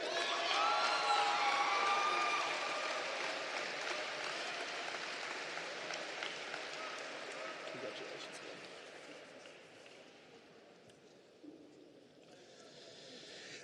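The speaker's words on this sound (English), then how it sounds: "Big round of applause for Joshua Alford." An audience at the closing ceremony of the Virtus OA Games 2022 applauds, a steady wash of clapping that starts loud, fades gradually over about thirteen seconds and swells slightly again at the end.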